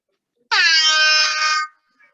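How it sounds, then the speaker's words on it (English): A single loud, blaring air horn blast holds steady for about a second, rich and brassy, then cuts off cleanly, with silence around it. "That's an air horn."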